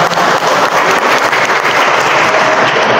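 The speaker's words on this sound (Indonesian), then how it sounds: "Tepuk tangan untuk kita semuanya." A live audience applauds at a 2023 Indonesian talk event. The clapping is dense, loud and steady from a large crowd and carries on for the full stretch without a break.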